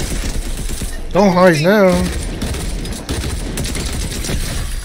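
Rapid gunfire in Fortnite, a fast rattling burst of shots running throughout at close range, with a short spoken line partly over it.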